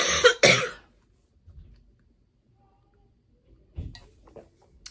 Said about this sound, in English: this cough needs to go.